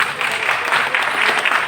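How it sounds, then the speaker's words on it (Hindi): An audience at a sales training seminar gives a short burst of steady, dense clapping, loud and close throughout. "आइए सर, जोरदार ताली साथ करिए"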